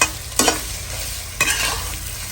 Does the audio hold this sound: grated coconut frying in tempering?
yes